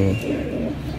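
Pigeon cooing from a prized breeding pair kept by a pigeon fancier, a low, soft, warbling coo that starts close and full, then fades into a dense murmur of background noise over about a second.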